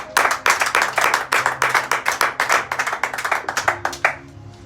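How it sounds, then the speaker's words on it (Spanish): A church congregation claps in praise to the Lord, a loud, fast run of many hands slapping in a steady rhythm that quickly fades out. "Dele palmas una vez más al Señor"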